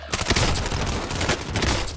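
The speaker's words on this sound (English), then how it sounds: "Yo, shotgun!" Rapid bursts of shotgun and other gunfire from a video game crackle densely and loudly throughout, overlapping blasts with almost no gaps between them.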